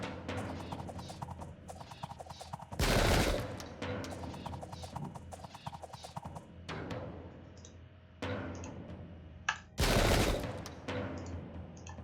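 Musket volleys crack across the battlefield in Sengoku Jidai during the Defence of Nagashino, with rapid scattered gunfire throughout and two loud, sudden volley bursts standing out above it.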